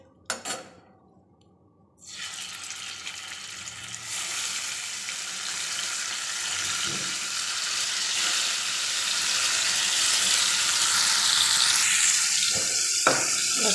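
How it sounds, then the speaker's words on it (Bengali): After a brief clatter and a pause, bitter gourd hits hot oil in a wok and sizzles steadily, the frying growing louder, with faint utensil knocks near the end. "এখন কড়াই বসিয়ে দিব এখন তেল দিব তারপরে ফ্রাই করে নেব"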